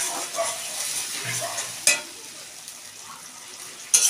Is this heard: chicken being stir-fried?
yes